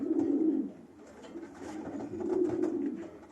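Pigeons coo inside a loft, their low, throaty, rolling calls coming in two close swells separated by a brief softer lull, with no talking.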